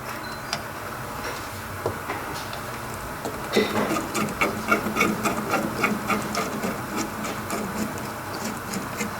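Removing two screws from the tailgate end cap of a 1973-1991 GM Blazer/Jimmy, giving steady scraping and rasping tool noise with a run of faster ticking clicks midway, close and fairly loud.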